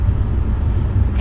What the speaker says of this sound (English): We got the old 10-wheeler running.